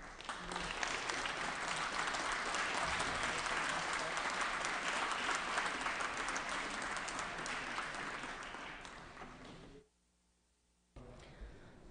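Sustained applause on a state Assembly floor welcoming Lord Christopher Monckton, a broad steady clapping crowd lasting several seconds before cutting off abruptly, followed by a brief quiet and a voice.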